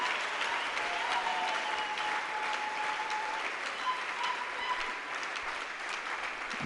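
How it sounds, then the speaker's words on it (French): A church congregation at a Sunday service claps continuously in an even, wash-like patter, heard at moderate distance with faint voices or singing mixed in. "Manifestez votre joie par des acclamations."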